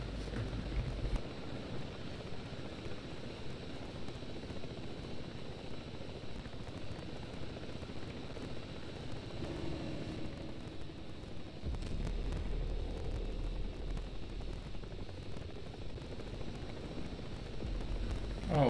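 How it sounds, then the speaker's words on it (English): A stealth helicopter in the Ghost Recon Breakpoint video game flies with a steady, loud rotor and engine drone that holds for the whole stretch, with low wind-like rumble and no speech over it. "Is this meant to be like some sort of stealth chopper? Yeah, and it sounds just like regular choppers"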